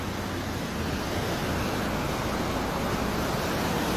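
Floodwater surging across a submerged path on the way home, a steady roaring rush of current that stays loud and unbroken throughout, with no voices.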